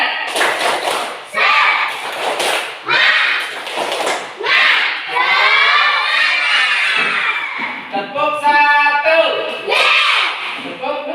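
Teachers and students do a rhythmic Indonesian spirit clap, with groups of crisp, loud claps punctuating lively chanted calls, repeating in short rounds close to the microphone.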